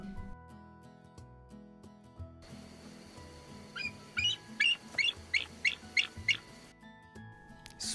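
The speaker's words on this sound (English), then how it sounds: "eagle," An eagle's call sounds as a series of about eight sharp, high chirping yelps in quick rhythmic succession, moderately faint over a soft background hum.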